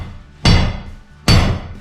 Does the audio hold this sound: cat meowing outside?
no